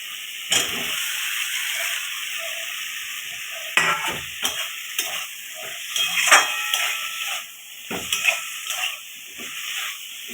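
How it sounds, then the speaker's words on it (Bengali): Vegetables tipped into hot oil and cooked-down spice paste for a Bengali bata fish curry, sizzling loudly and steadily throughout, with repeated clatters and scrapes of a stirring spoon against the pan. "আমার মশলাটা কষানো হয়ে গেছে তেল ছেড়ে গেছে আমি এবার সবজিগুলো দিয়ে দেবো"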